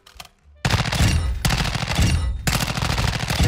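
TRX-56 rifle gunfire in Modern Warfare II: loud, sustained bursts of rapid automatic shots, separated by brief breaks, close and dominant after a short quiet start.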